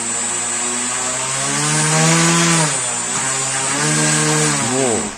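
A brushless motor spins a propeller at low throttle to lift about 1 kg of water bottles, giving a loud steady whine whose pitch rises and dips as the load shifts, with no talking.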